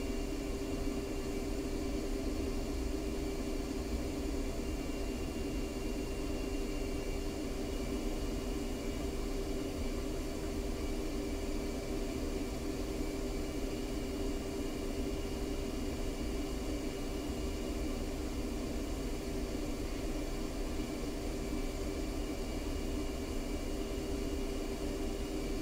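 A jet aircraft taxis in the DCS World flight simulator, a steady, unbroken engine roar with a hissing whine that holds at an even level throughout, with no voices.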